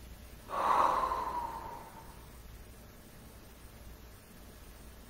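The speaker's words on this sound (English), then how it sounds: "And breathe." A single forceful breath, a sharp snort-like exhale through the nose, is heard during a breath of fire breathing exercise. It swells and fades over about a second, close to the mic, then gives way to quiet room hiss.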